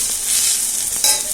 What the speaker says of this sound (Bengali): বড়াগুলো অল্প অল্প করে ভেজে নিয়ে